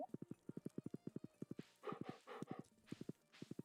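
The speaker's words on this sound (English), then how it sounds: "Hop on we now have 3 horses" Horse hooves clip-clopping in the farming video game Stardew Valley, a quick regular run of crisp hoof clops with short pauses, joined midway by brief bursts of voice-like noise.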